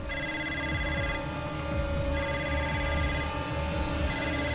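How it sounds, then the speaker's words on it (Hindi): A telephone rings in a Hindi TV drama scene, with repeated electronic bursts separated by short pauses over a busy background score, fairly loud and without dialogue. "सर, आपके लिए फोन है।"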